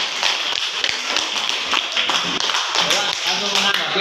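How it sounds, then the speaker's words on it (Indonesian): A group of people clap their hands in a classroom, a dense, steady patter of many close claps lasting a few seconds. "Ya, terima kasih, tepuk tangan."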